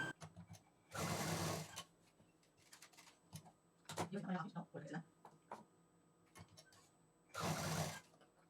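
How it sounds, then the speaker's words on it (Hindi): Sewing machine stitching down a single-folded fabric edge, heard in two short loud bursts of rapid mechanical chatter separated by quieter handling clicks and a brief voice. "इसको उल्टी तरफ से सिंगल फोल्ड करेंगे और उतना सिल देंगे"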